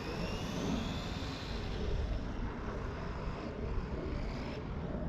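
Whining electric motor of a Haiboxing 901a RC car held on the throttle, a steady high-pitched buzz with a rushing roar beneath it, continuous and fairly loud for several seconds.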